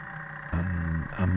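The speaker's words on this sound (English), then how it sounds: "all you're getting the engine sound, bit of road noise" Motorcycle engine hum with a bit of road noise while riding, a steady low drone that swells louder midway and again near the end, heard up close from the rider's position.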